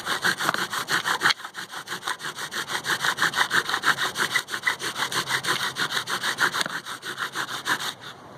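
A wooden bow drill spindle grinds steadily in a fireboard to make fire, a rhythmic back-and-forth rasping with even strokes about twice a second, close and continuous with no talking.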